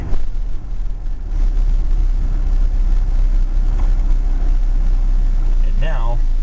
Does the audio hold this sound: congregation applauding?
no